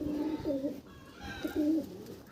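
Madras pigeons coo inside a loft, two low rolling coos about a second apart, close and fairly soft over a faint background hiss.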